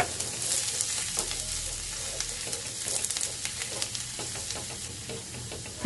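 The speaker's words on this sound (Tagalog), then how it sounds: "Gisahin lang po natin ang bawang hanggang sa ito ay mag-golden brown." Garlic sautéing in hot oil in a pan, a steady close sizzle with faint crackles and stirring clicks that holds for the whole stretch with no voices.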